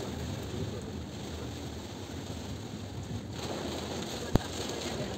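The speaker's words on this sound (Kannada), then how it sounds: "ತುಂಬಾ ಜೋರಾಗಿ ಮಳೆ ಬರ್ತಾ ಇದೆ ಮತ್ತು ಫಾಗ್ ಕೂಡ ಹಾಕಿದೆ." Heavy rain pours down amid fog on the road from Belagavi to the Amboli waterfalls, a steady, dense broadband hiss that holds even throughout, with one sharp brief click near the end and no talking.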